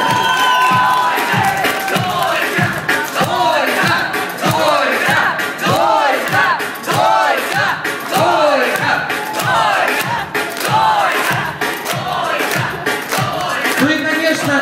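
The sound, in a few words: audience applauding the young couple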